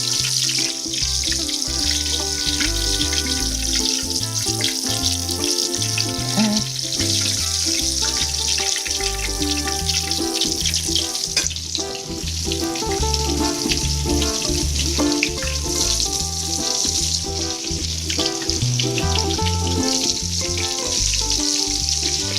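Mozzarella sandwich skewers deep fry in hot oil, a loud, steady crackling sizzle that continues without pause throughout, close up and with no talking.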